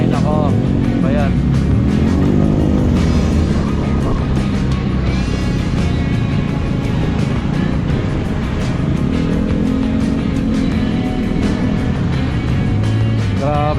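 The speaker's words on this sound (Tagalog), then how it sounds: "Grabe yung traffic lagi dito." Heavy road traffic on Centennial Road, with car engines idling and moving, vehicles passing close by, a continuous loud rumble throughout with people talking over it.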